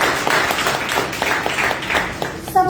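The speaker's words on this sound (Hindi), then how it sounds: "एक बार ताली तो बननी चाहिए" Audience applause at a business plan seminar, a loud burst of many hands clapping in a hall, ending as a voice begins.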